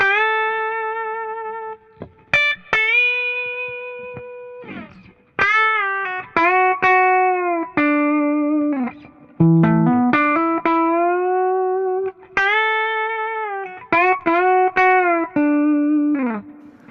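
Electric guitar set to imitate pedal steel, with a Whammy-style whole-step pitch bend and compression: sustained notes that swoop and glide up and down in pitch, loud and close, with short breaks between phrases.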